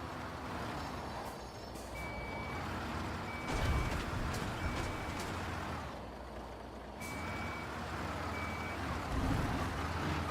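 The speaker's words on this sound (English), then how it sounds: "this big truck can't go up that small little embankment." A big construction truck in the Construction Simulator video game runs with a steady engine rumble while intermittent reversing beeps sound in short repeated runs, with occasional air-brake hisses.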